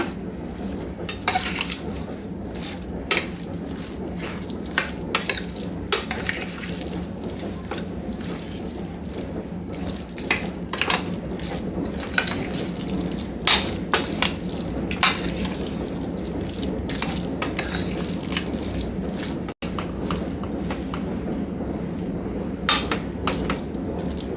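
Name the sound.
mixing curd rice with a spoon in a bowl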